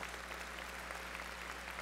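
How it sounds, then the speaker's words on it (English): Audience applause fills the room steadily and evenly throughout, a continuous wash of clapping at a moderate distance with no talk over it. "the clapping to me is still sort of a little bit uncomfortable"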